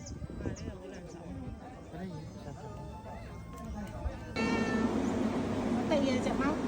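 A white cat meows repeatedly outdoors on Penang Hill in Malaysia, its cries rising over nearby people talking and a steady background hum.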